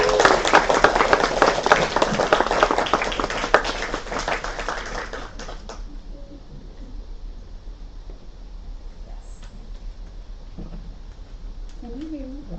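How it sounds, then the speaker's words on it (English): Audience applause at a UCSB mini-convention: dense, loud clapping from a crowd for about five seconds, then it cuts off to quiet room tone with a few faint stray sounds. "let's give her a big round of applause."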